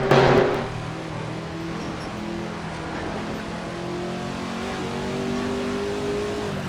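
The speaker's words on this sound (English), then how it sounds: "that is the Ford GT40" Ford GT40 race car engine in Assetto Corsa, a 1966 Can-Am car, roaring loudly at first and then settling into a steady, sustained drone with faint pitch shifts.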